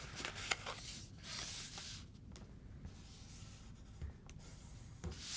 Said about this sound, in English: I'm using the side of my score tool to make that score line.